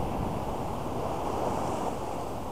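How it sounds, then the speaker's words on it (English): Ocean surf breaking steadily on a Southern California beach, with waves rolling in and backwash pulling out, a loud continuous wash mixed with wind noise on the microphone and no voices. "So you got the waves coming in and then you get a little bit of backwash"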